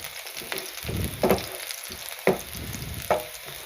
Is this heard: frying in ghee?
yes